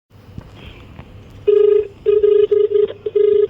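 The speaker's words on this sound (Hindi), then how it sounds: "फिलहाल मैं अपने दोस्त को फोन करता हूँ" An outgoing phone call to a friend: a few dial tones, then a repeating ringback tone in steady on-off pulses, clear and close over faint background noise.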